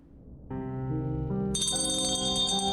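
In the video game Foolish Mortals, pulling a cord rings a servant bell, and bright metallic chimes sound and layer into a sustained, swelling ring that grows louder and richer as more tones join.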